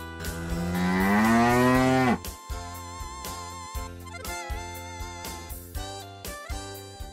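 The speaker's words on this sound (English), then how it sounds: "Cow," A cow gives one long, loud, rising moo lasting about two seconds, followed by a bright plucked melody that continues alone.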